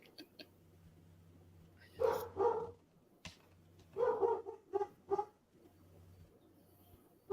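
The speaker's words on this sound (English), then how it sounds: "Oh my gosh, dogs. They see something, don't they?" Several dogs bark in short loud bursts, two clusters of barks a couple of seconds apart with a low hum underneath and no talk.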